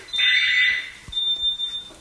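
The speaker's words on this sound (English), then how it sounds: "there's the smoke alarm" A shrill electronic smoke alarm beeps, one long piercing tone followed by a second, choppier burst, fairly close and loud.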